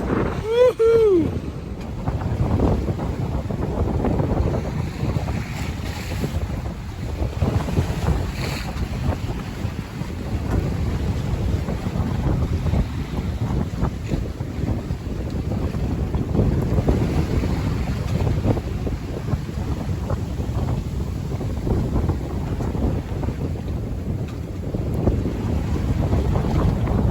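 A sailboat sailing fast under wind, with continuous rushing water and buffeting wind noise on the microphone throughout, steady and loud with no break.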